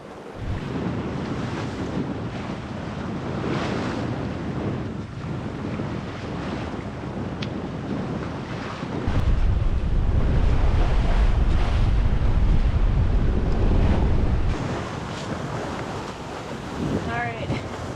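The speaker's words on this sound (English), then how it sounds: "I'm kind of bashing into waves a bit" A 35ft sailboat crossing the Gulf Stream from the Bahamas to Florida pounds into ocean waves, with heavy wind buffeting throughout and a deeper surge of water rushing against the hull midway, loud and continuous.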